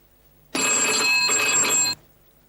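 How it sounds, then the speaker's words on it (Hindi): A telephone rings once in an indoor scene, a single loud, bright electronic ring lasting about a second and a half that stops abruptly, with no talk over it. "सुनील का बॉम्बे से फोन है।"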